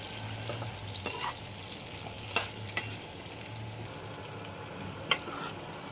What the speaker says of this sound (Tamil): வெங்காயம் நல்லா பொன்னிறம் ஆகிற வரைக்கும் இப்படியே நல்லா வதக்கிக்கலாம்.